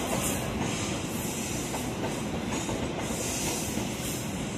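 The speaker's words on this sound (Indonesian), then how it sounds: "7 Timur rangkaian kereta api melintas langsung" Commuter train passing straight through a station platform without stopping, a loud, continuous rush of wheels and rattling carriages with a steady hiss, close by and filling the whole stretch.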